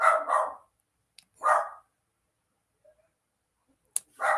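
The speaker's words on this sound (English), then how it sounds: "Not sure if you could hear the dog in the background." A dog barks several times from a short distance, a quick pair of barks, then a single one, then another after a pause in near silence.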